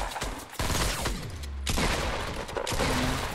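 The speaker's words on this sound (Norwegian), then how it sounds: "Mange skudd fra dem, ass." Rapid bursts of gunfire in the video game Fortnite, several loud volleys crackling in quick succession with short breaks between them.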